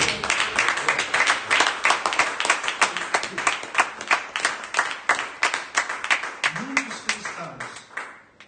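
A church congregation claps for the Lord during a stewardship seminar, a fast rhythmic run of sharp claps in a steady beat, loud and close, with a brief voice murmuring near the end.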